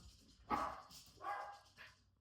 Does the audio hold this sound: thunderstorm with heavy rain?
no